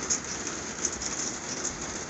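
Heavy rain pours steadily on a cattle farm around calving time, a dense, loud, continuous hiss with no pauses.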